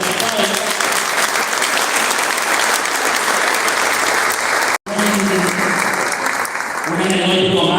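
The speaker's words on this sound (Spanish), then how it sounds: "Así que un aplauso." Audience applause at an academic lecture event, dense steady clapping filling the room at close range, broken by a brief cut, with voices rising over it near the end.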